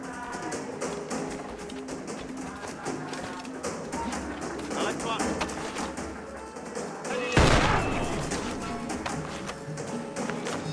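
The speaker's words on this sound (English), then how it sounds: "It can take down multiple enemies with one shot, plus it has a quicker reload." Blunderbuss gunfire in the video game Assassin's Creed IV Freedom Cry, one loud boom standing out over a dense, continuous mix of game music and ambient battle noise.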